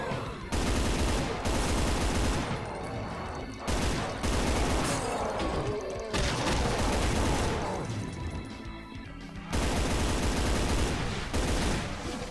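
Loud, dense bursts of rapid gunfire fill the 1993 game Doom played through QuestZDoom on an Oculus Quest 2, several long sustained volleys separated by brief pauses, with a voice faintly underneath.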